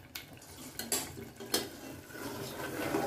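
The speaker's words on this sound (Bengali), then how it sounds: "এবার নেড়ে চেড়ে 5 মিনিট ঢাকনা দিয়ে রেখে দেব একেবারে লো ফ্লেমে।" A spoon scrapes and clinks against a pot of Bengali eel curry with coconut, with a few sharp metallic knocks, then a softer rustling stir and a lid settling on; quiet and close, with no voices.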